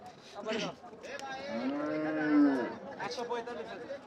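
A bullock lets out a long, loud moo that swells and fades at a cattle market, with people talking faintly before and after.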